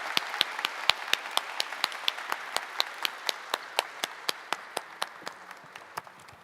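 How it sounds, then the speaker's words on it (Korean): An audience claps in steady unison, crisp regular beats about three per second over a soft crowd wash, gradually easing off toward the end. "큰 박수 부탁드립니다"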